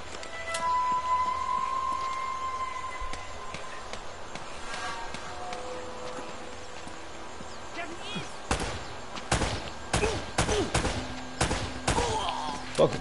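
Enemy gunfire in Uncharted: Drake's Fortune, faint scattered shots under game ambience, giving way to a cluster of louder, sharper shots near the end.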